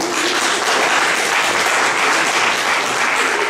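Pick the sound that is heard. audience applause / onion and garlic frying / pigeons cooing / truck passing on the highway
audience applause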